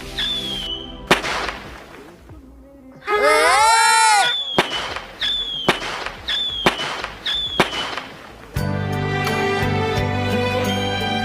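Cartoon sound effects: series of sharp firecracker bangs with whistling, rising fireworks, loud and close, followed by a sustained crackling burst; voices can be heard between the blasts.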